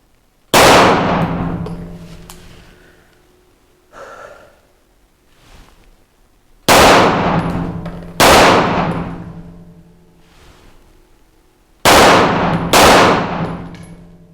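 A Grand Power Mk23 pistol fires at steel targets. There are five loud, close shots, one alone and then two quick pairs, each ringing off the steel, with a fainter knock between them.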